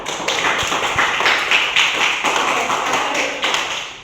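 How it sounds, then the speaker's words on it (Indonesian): Classmates in a coding and artificial intelligence lesson clap for a student group, a loud, close, continuous patter of hands in a classroom. "Tepuk tangan kawan."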